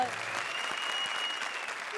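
A comedy show studio audience applauds, a steady, close burst of clapping that carries evenly through the whole moment.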